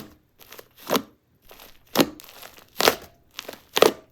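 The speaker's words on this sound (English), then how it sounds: "I had so much fun squeezing out all the sizzles and crackles and pops." Slime crackles and pops in short bursts as it is squeezed, with about six separate crunchy squelches spaced by quiet pauses, close up.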